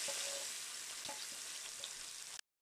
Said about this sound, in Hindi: जैसे कि आप देख रहे हैं मैं इसमें जो तड़का डाल रहा हूँ